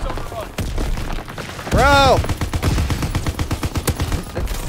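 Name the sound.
gunfire from the video game Call of Duty WWII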